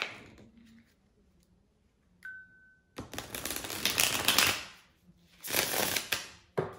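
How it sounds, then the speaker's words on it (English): A deck of tarot cards is shuffled up close after a quiet stretch, in two loud, papery riffling bursts with a brief pause between them, followed by a final sharp snap. "to shuffle the tarot cards"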